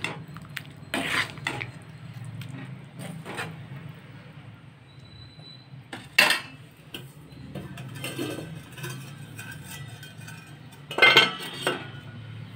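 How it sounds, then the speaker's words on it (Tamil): A lid goes onto a pot of Chettinad jackfruit sothi, giving a few sharp metallic clinks spaced several seconds apart over a faint, steady kitchen background. "இப்போ நல்லா கிளறிட்டு ஒரு நிமிஷம் மூடி வச்சுக்கலாம்."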